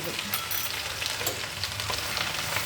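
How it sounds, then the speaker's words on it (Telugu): Ground masala paste fries in hot oil in a pan for fish pickle, making a continuous busy sizzle with crackles and stirring scrapes, close and steady, with no one speaking. "ఇప్పుడు నేను ఈ మసాలా వేసి వేయిస్తానండి."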